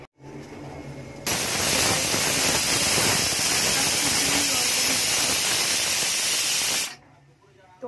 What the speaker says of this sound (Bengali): গ্যাসটাকে আমরা ঢাকনা বন্ধ করে সিটি দেওয়ার জন্য বসিয়ে দিয়েছি